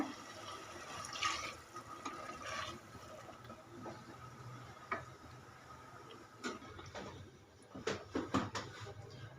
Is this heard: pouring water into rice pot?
yes